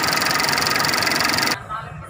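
A Tata Indica engine idles roughly and unevenly, the car shaking, as a loud steady mechanical drone that cuts off sharply about three quarters through and leaves a quieter rumble.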